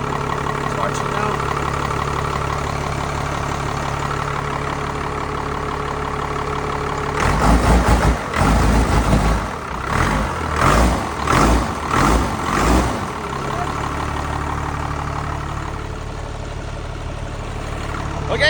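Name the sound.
truck engine idling after starting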